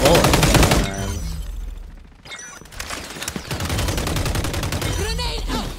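AK rifle fire in the online shooter XDefiant, loud rapid automatic bursts up close, a pause, then more sustained firing and game effects.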